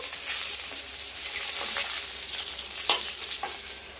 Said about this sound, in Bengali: তো এই মাছগুলো কিন্তু লাল লাল করে ভেজে নিয়েছি, এবার তুলে নেব।